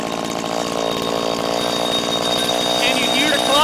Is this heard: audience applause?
no